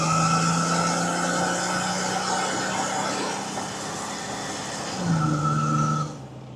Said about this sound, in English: ended up spinning the tires, so not ideal